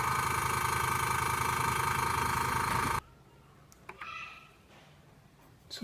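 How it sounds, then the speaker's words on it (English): A Hobbiworkz CMP20T airbrush compressor runs loud and steady for about three seconds with a dense mechanical hum, then cuts off abruptly, leaving faint room noise and a few small clicks. "the Hobbiworkz CMP20T airbrush compressor"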